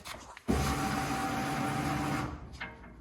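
Vehicle lift raising a rusty car in a garage workshop, a motor kicking in with a sudden start and running as a steady mechanical hum and whine for about two seconds before easing off, close and fairly loud.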